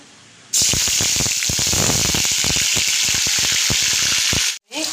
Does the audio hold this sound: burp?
no